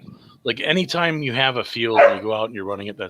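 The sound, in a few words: dog barking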